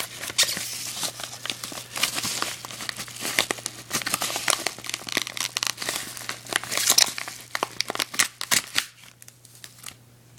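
The plastic wrapper of a Magic: The Gathering card pack is cut and torn open, giving dense, close crinkling and rustling in quick irregular bursts that fade out near the end, with no talk over it.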